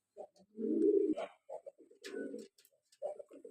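A pair of big Lotan pigeons coo close by, with deep rolling coos in repeated bursts, separated by short gaps and a few softer calls.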